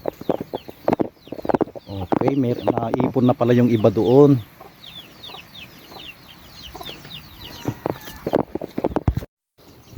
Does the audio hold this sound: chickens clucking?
yes